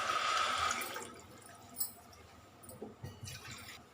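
Water pours from a metal vessel onto rice for tomato rice, a gushing splash at first that fades into light trickles and a few drips, close and fairly quiet.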